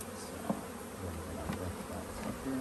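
Honeybees buzz around an opened hive box at a bee sanctuary, a steady low droning hum with a few individual bees passing close, quiet overall.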